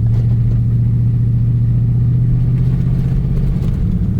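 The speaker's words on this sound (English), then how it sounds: "It is chugging, but it is going." An old Chevrolet Silverado fitted with a new crate engine chugs along while driving, a steady loud low engine drone with uneven rumbling pulses throughout, no voices.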